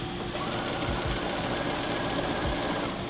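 A sewing machine runs steadily and continuously while stitching a fabric strip for bias tape, a close, even motor whir with no pauses and no talking.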